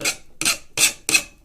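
Four crisp, evenly spaced rasping strokes of a file deburring the edge of a metal rocket stove tube, each stroke short and bright, heard close up with no talk.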